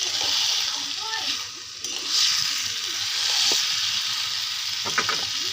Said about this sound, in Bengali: এই যে পেঁয়াজটা লাল করে ভাজা হয়ে গেছে, এখন মাংসগুলো দিয়ে দেব।